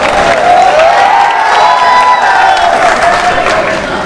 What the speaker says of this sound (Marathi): जोरदार टाळ्या होऊ द्या संकेत यांच्यासाठी